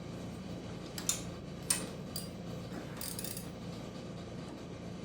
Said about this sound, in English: we're getting this thing torqued back to spec. You know, the good old torque wrench.